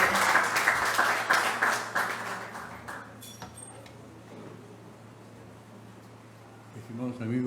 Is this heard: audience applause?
yes